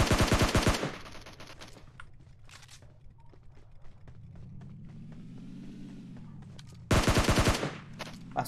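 A PUBG Mobile rifle fires a loud close rapid burst, then a quiet stretch of distant pops and rumble with a faint engine hum, and then a second rapid automatic burst.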